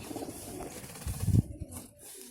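A female fancy pigeon gives a short burst of low cooing close up, a single rumbling call swelling and fading within a couple of seconds.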